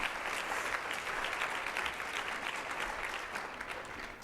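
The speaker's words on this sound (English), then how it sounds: "All right, round of applause." Sustained audience applause fills a hall at the opening keynote of a women's leadership summit, a dense, steady patter of many hands clapping that holds at an even level for the whole stretch before tapering slightly.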